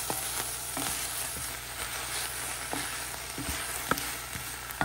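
Vegetables sizzling in a hot pan while being stirred for a low-carb turkey pot pie filling, a constant crackling fry broken by scattered sharp scrapes and clicks of the spoon, close and without talk.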